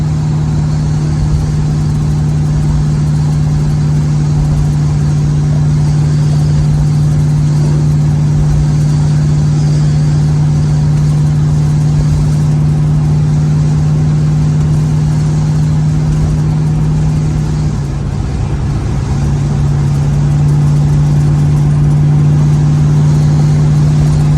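A classic Dodge car engine running steadily and loudly throughout, a constant low hum with a brief dip in pitch partway through.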